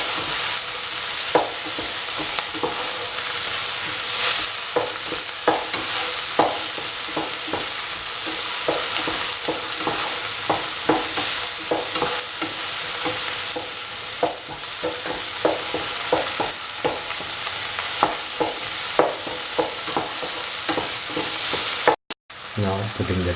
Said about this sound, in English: Salt and mix the tomatoes with the potatoes and